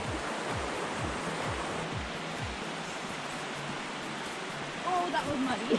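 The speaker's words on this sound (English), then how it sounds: "just you know, Waterfalls." The waterfall at Eau Claire Gorge roars in a dense, steady broadband rush close by, with brief faint sounds near the end.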